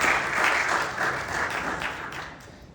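Audience applause welcoming a speaker at a tech event's AI debate, a steady burst of clapping from a crowd in a hall, moderately loud and heard alone without talk.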